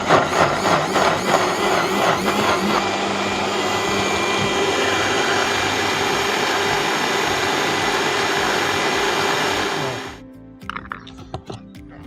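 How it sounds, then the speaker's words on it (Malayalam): A kitchen mixer grinder grinds grated coconut for coconut milk with a loud, steady whirring roar that runs for about ten seconds before cutting off, leaving a few faint clinks. "ഇനി അത് മിക്സിയിൽ അടിച്ചിട്ട് നമുക്ക് പാലെടുക്കാം"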